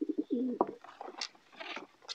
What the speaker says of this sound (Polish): Bardzo szybki gołąb.